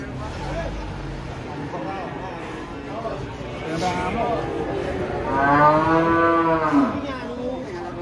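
Two giant cattle being unloaded from a truck at Penambarawa livestock market, with one deep drawn-out moo rising near the end over crowd chatter and background engine noise.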